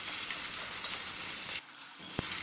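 Mango and garlic pickle cooking in a pan with turmeric, chilli powder and black salt hisses in a steady, bright sizzle that cuts out for a moment and then returns.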